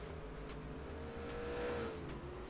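Ford Fusion Gen 6 NASCAR ARCA race car in a racing video game at Meridian Speedway, a steady loud engine drone with a rising then falling pitch sweep as it accelerates, with no voices over it.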